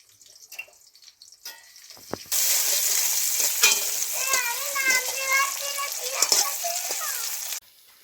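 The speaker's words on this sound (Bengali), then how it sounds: "কড়াইয়ে তেল দিয়ে দিলাম সর্ষের তেল তেলের মধ্যে তো তেলের মধ্যে এবার পেঁয়াজ কুচি দিয়ে দেবো" Chopped onion hits hot mustard oil in a wok, bursting into a loud, steady sizzle that runs for about five seconds and then cuts off, with faint kitchen clatter before it.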